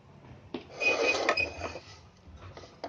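Grated coconut being dry-roasted in a pan over a gas flame while making coconut ladoo, with faint scraping, stirring and metallic clinks of a spoon against the pan, quiet and close.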